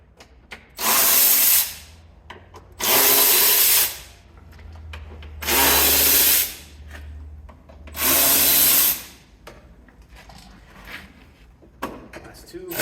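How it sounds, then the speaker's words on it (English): Power tool buzzing in four even bursts, close and loud, removing 10mm bolts from a Lexus IS F transmission cover, with quiet clicks and handling noises between runs. "It's a bunch of 10mm bolts. Just go ahead and remove all your bolts."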